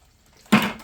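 Water is poured into a container of fermenting chicken feed, a short, sudden splash that swells quickly and then trails off within a second.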